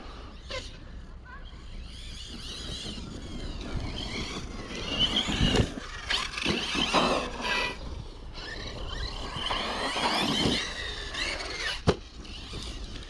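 A Hobao Skater electric skateboard motor runs at full throttle for a short burst, letting out a rising high-pitched whine and buzz before it is released, with someone talking nearby throughout.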